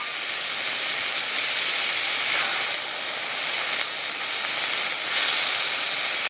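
Okra, potato and long beans fry in a pan while being stirred, giving a steady, dense sizzle and hiss that holds evenly throughout with faint scraping underneath.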